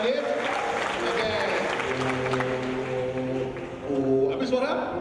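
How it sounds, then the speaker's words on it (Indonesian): An audience applauds at the grand opening ceremony of UPH Surabaya, with clapping under a sustained low horn-like tone and voices, the crowd noise swelling slightly toward the end. "Tepuk tangan buat Bapak Ibu, saudara-saudara yang sudah hadir"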